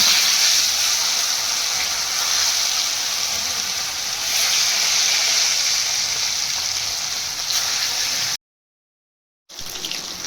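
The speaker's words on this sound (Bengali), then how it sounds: "মাছগুলো ভালো করে ভাজা হয়ে গেছে" Pieces of katla fish frying in hot oil with salt and turmeric, a steady loud sizzle and crackle that runs unbroken, then cuts out for about a second before resuming.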